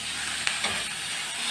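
Pork pieces frying with carrots in a pan over above-medium heat, a continuous close bright sizzle with a few small pops, lasting under two seconds.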